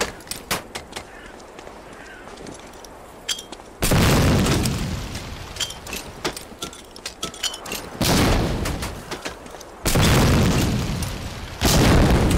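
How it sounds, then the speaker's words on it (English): Grenade blasts in the World War II shooter Medal of Honor: Allied Assault, three heavy booming explosions with rumbling tails, separated by quieter stretches of distant gunfire and clicks. "Throw a grenade into each of the concrete boxes."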